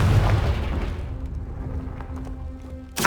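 A Confringo fire spell bursts in Hogwarts Legacy, a heavy booming explosion that rumbles loudly at first, decays over a couple of seconds, then gives way to a sharp new blast at the very end.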